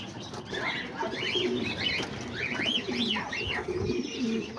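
Homing pigeons cooing close by, repeated soft rolling coos overlapping with a few higher chirps, steady and near, no talking.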